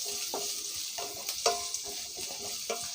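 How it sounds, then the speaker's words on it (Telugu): Onions stirred in a hot pan for a cool curd salad, a steady broadband sizzle with repeated scraping strokes of the spoon at an even rhythm, close and moderately loud, no voices. "ఆనియన్స్ వేస్తున్నాను నేను ఇప్పుడు"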